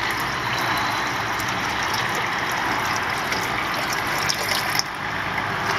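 Water pours steadily into the reservoir of a coffee maker, a continuous close gushing, trickling rush that holds at an even level for several seconds with a brief dip near the end.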